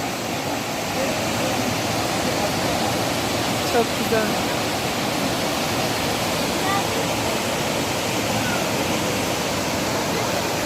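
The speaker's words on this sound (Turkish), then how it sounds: "Göksu Şelalesi." Steady, full-bodied roar of rushing water from Göksu (Yerköprü) Waterfall in Hadim, Turkey, constant throughout, with a voice briefly speaking over it.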